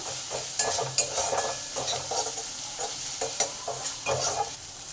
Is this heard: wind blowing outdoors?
no